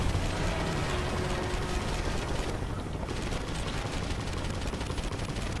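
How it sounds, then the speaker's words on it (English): Continuous gunfire from a video game shooter, Marlow Briggs, a dense rattling stream of shots with mechanical clatter layered over a busy game soundtrack, steady and loud throughout. "I'm doing some hardcore shooting"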